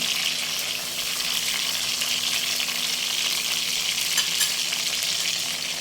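Steady, loud sizzling of onion frying in hot oil, a constant crackling hiss close by with no talking.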